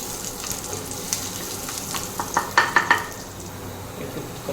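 Two dried red chillies hit hot oil and give a soft, low sizzle, with a few brief clinks and stirs clustered near the end.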